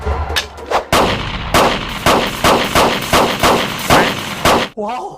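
Rapid bursts of film-scene gunfire, about a dozen loud sharp shots in a steady rhythm, ending with a brief ringing tail.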